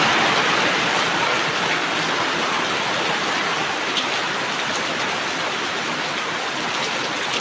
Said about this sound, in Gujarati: વરસાદ જબ્બર જોમી પડે છે